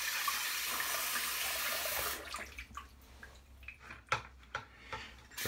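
Tap water runs steadily into a sink for about two seconds while a safety razor handle is rinsed, then stops, leaving faint drips, clinks and handling sounds close by.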